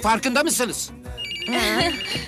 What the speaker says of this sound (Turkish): bu telefon hala çalıyor